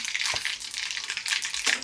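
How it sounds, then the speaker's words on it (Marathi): Mustard seeds and cumin crackling in hot oil for a poha tempering, a dense continuous sizzle with sharp popping bursts, close and steady. "आपली फोडणी चांगली तडतड उडली पाहिजे"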